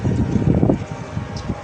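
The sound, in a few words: wind blowing outdoors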